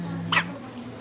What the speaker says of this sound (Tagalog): Kabait di siya umiiyak. Sinok lang siya ng sinok.